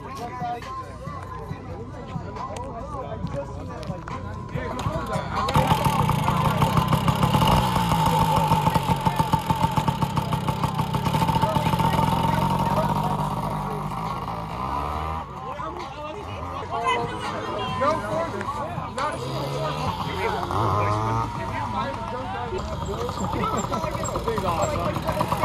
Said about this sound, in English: A little big wheel 80. It's the first two-stroke I've ever driven.